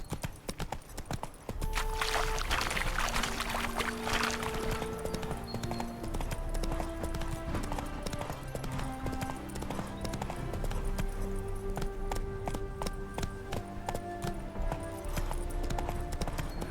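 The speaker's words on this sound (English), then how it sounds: "Spooking my horse." Roach the horse in The Witcher 3 trots with steady, close clip-clopping hooves through the whole stretch, with game music playing underneath and no voices.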